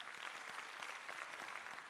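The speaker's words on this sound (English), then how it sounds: "Branch delegates, can you also give yourselves a nice round of applause?" Branch delegates at an ANC provincial conference in the Northern Cape applaud, a dense, steady wash of many hands clapping at a distance, fairly faint and without pause.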